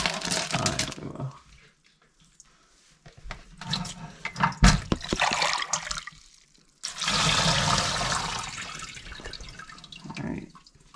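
Running water pours and splashes over tumbled rocks in a rinse, in bursts with pauses between them, close and moderately loud, with no talk.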